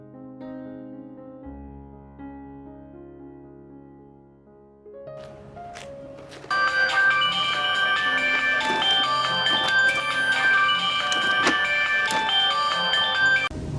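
A phone rings as a call is placed, a melodic ringtone that begins faintly and then grows loud and dense, playing continuously alone for several seconds.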